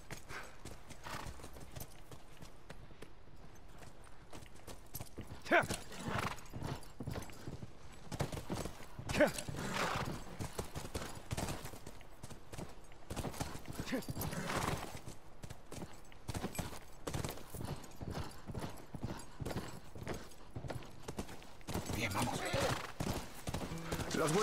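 Horse hooves clip-clop in a steady walking rhythm in The Last of Us, close and clear, with an occasional whinny and some voices at times.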